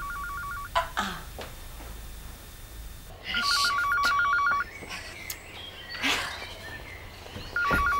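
An old-style telephone trilling in short electronic bursts, faint and somewhat distant, repeating three times amid quiet household noises with no speech.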